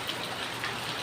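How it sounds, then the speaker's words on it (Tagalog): Steady rain falls during stormy weather with floodwater nearby, an even, continuous hiss close by with no voices. "Kanina pa tutuloy yung ulan mga kapida."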